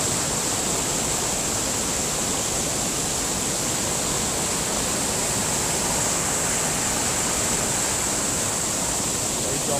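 Steady, dense roar of a waterfall pouring down into a pool where people bathe, broadband and continuous with a bright hiss, close and loud throughout with no pauses.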